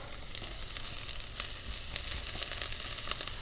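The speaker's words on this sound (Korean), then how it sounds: "여기에다 그냥 양파 넣고요. 볶아주시면 되시겠습니다." Onions stir-fry in hot oil in a pan, a steady bright sizzle with occasional louder crackles and spatters throughout and no voices.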